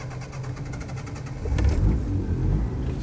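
A 1983/84 Land Rover 110 County Station Wagon with a 2.25 petrol engine cranks, then catches and settles into a low, rough idle. The sound is close and carries no talk.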